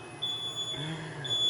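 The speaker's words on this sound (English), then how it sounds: "Hey, we got a low battery alarm." A FANUC CNC machine control sounds its low-battery alarm during a battery swap: a faint, thin, high electronic beep that drops out briefly, over a low workshop hum with no talking.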